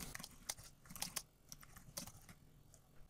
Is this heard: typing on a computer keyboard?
yes